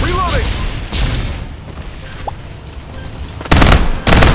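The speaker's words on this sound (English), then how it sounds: "Exchanging fire!" Gunfire exchange in the battle-royale video game Farlight 84, with loud bursts of shots at the start, a quieter stretch, then heavy blasts near the end, with a voice line heard over the action.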